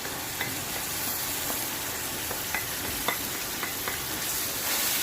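A mixed spice paste fries in a pan for bhindi masala curry, giving a dense, even sizzle and hiss with faint occasional clicks of a spoon stirring, no voices.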